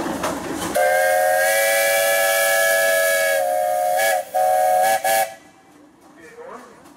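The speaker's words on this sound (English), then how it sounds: "Andy New, the engineer operator up there today, can have a whistle" A donated steam traction engine at the Rushville Pioneer Engineers parade sounds its whistle: one long, loud, steady blast of about three seconds, then two short toots, over background hiss.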